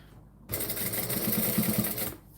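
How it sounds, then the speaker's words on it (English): A sewing machine top-stitches straight across fabric, starting abruptly and running as a steady, fast, close whirring with rapid needle chatter for about two seconds before stopping. "we're going to top stitch straight across"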